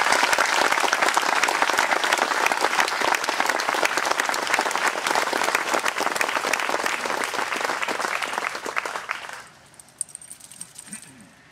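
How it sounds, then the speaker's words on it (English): Sustained audience applause at a Memorial Day ceremony honouring the Patriot Guard and Legion Riders, with many hands clapping steadily and loudly for about nine seconds before stopping abruptly, leaving faint room noise. "we owe the Patriot Guard and the Legion Riders a big applause"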